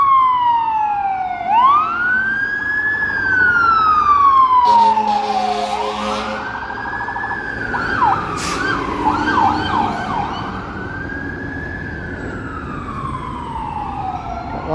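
Emergency vehicle sirens wail and sweep up and down on a city street in Toronto at night, loud and close, several overlapping tones over a low rumble of traffic.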